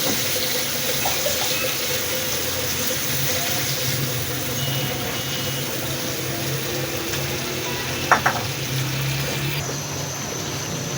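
A steady, dense sizzle of tomato and onion paste frying in a hot pan, continuous throughout with a brief clatter near the end.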